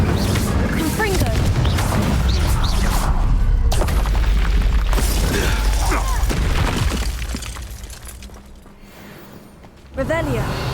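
Spells detonate in the Hogwarts Legacy game as a Confringo fire blast follows Incendio, a sustained loud booming and crashing barrage with shattering bursts that eases off before a final sharp hit, with voices mixed in.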